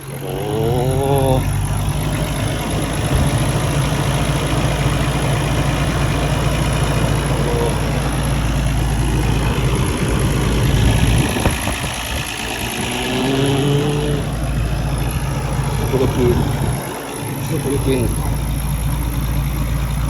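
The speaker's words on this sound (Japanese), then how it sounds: "ちなみにエンジンかけてもらってもいいですか？" A Nissan Skyline GT-R R32 Nismo, kept nearly stock, idles steadily with a deep, even low rumble that runs the whole time beneath Japanese conversation.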